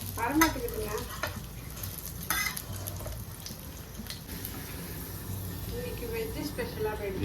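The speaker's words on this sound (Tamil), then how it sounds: "அமுக்கு அப்பளம் அந்த எண்ணெயில் போட்டு தான் அமுக்கி எடுக்கணும்" Papad pressed down and fried in hot oil, a steady sizzle with stirring and faint watery crackle, close by, while voices talk in the background.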